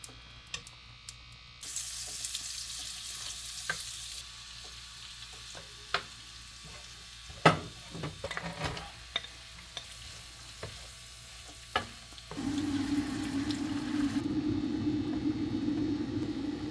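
Squash frying in oil in a wok-style pan for Filipino oxtail kare-kare: a steady crackling sizzle with sharp clicks and scrapes, swelling into a louder, denser hiss near the end.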